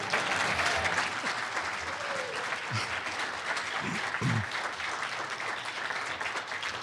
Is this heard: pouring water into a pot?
no